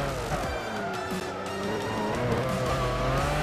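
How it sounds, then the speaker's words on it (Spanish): Race car in Gran Turismo 6, a Lister Storm GT on worn tyres, engine droning steadily with a rising pitch as the car slides slightly under braking, faint tyre scrub beneath the continuous motor note. "sí que derrapa un poco el coche al frenar por ese desgaste de neumáticos"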